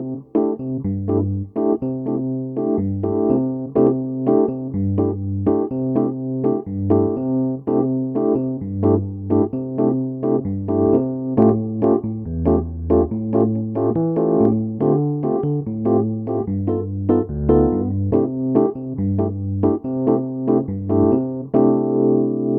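Bossa nova piano pattern on solo piano, with an added left-hand bass note woven into the syncopated chords, a steady lilting rhythm played cleanly and continuously with no voices.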